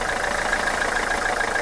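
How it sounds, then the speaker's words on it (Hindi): A used car's engine idles at a secondhand car sale, a steady close mid-pitched running drone with an even throbbing pulse and no talk. "ये देखिए भाई गाड़ी हो चुकी है स्टार्ट"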